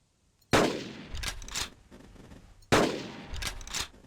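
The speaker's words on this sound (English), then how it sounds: "they go down, thankfully, pretty good if you just wait to blast them with the shotgun" Two loud shotgun blasts go off in the Carnivores Triplex dinosaur-hunting game, about two seconds apart, each a sharp close crack followed by a rattling mechanical tail.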